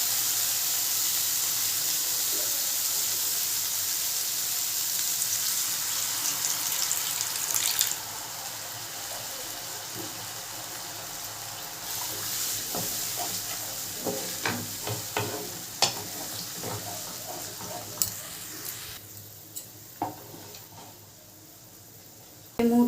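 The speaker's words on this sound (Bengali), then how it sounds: "এবারে জল দিয়ে দেবো অল্প করে।" Water poured into a pan of sizzling fried spice masala while cooking banana kofta curry: a steady hiss and pour at first, fading into softer bubbling with scattered clinks and stirring scrapes, no talk.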